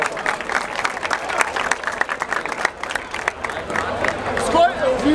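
A crowd at a Brazilian freestyle rap battle in Barueri claps and cheers, scattered sharp claps and crowd noise rising and falling, with voices shouting through it and a whooping call near the end.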